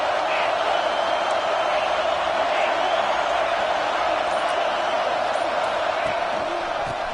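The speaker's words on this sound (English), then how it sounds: "This crowd ready to make its presence known." A stadium crowd at a college football game in Tennessee roars in a dense, steady wash of cheering that fills the whole stretch at high volume, with no breaks and no clear voices on top.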